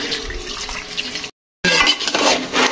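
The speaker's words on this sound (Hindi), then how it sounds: "तो ये पानी साथ ही डाल देते हैं।" Water poured into jaggery in a pot to make syrup for rice-flour pinni, a steady splashing pour that breaks off for a moment and then resumes, close and fairly loud.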